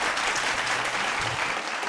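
Audience at a fashion show claps loudly and steadily for design groups presenting their creations, a thick, continuous wash of many hands with no pause.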